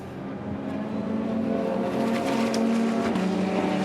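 A Ferrari race car powers along the track during a Nürburgring Endurance Series race, its engine note sustained and rising with shifting harmonic tones, loud and continuous with brief gear-change dips.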